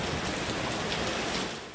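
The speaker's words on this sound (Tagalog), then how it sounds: "Nagsimula sa mahinang hangin at bahagyang ulan." Light rain patters steadily in Santa Ana, Cagayan as Super Typhoon Nando begins, a dense even hiss close by with no voices.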